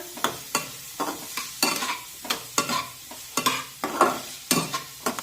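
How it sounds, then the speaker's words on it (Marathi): Two medium chopped onions sauté in hot oil in a pan over a medium flame, with a spoon scraping and stirring in quick, regular strokes over a steady close sizzle. No one speaks. "आता हा कांदा या तेलामध्ये टाकूया आणि हा कांदा छान मऊ होईपर्यंत शिजून घेऊया"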